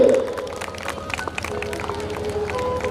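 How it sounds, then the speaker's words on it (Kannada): An audience at a primary school annual day celebration claps after a felicitation, a quick burst of applause with crowd noise and some voices underneath. "ನಿಮ್ಮೆಲ್ಲರ ಚಪ್ಪಾಳೆಯೊಂದಿಗೆ."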